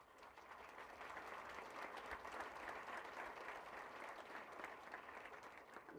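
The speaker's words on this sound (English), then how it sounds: "can we welcome our chief guest by a round of applause?" Scholars at an education and leadership congress applaud to welcome the chief guest, a broad, sustained round of clapping from a large crowd heard at some distance and fairly faint overall.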